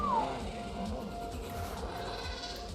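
A sheep in the video game ARK Survival Ascended lets out one short, wavering bleat at the start, fairly quiet, followed by soft ambient game background.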